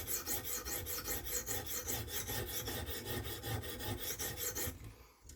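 A knife blade is drawn back and forth across a sharpening stone in quick, even rasping strokes about four per second, close and steady, before the scraping stops abruptly near the end.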